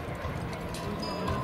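Horses' hooves clip-clop steadily on hard ground at a junior ranch rodeo team sorting event, close and continuous, over a dense rumbling background.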